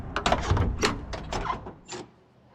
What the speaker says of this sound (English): doors open up well